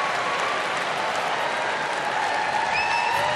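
A fired-up New York crowd cheers and applauds at the Westminster Kennel Club Dog Show as the terriers are judged, a dense, loud, steady roar of clapping and shouting with a few whistles rising near the end.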